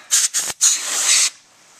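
Loud, close spraying into the carburetor of an OFNA Hyper 7 RC car engine: two quick hissing bursts followed by a longer sustained spray lasting nearly a second before cutting off.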